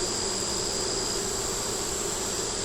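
Honeybees at an open hive produce a steady, dense buzzing drone, loud and close, with no voices over it.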